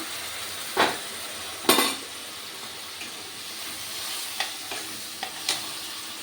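Spices frying in a pan with tomato and green chilies, a steady soft sizzle broken by a few sharp scraping stirs of the spatula against the pan, close and alone with no talking.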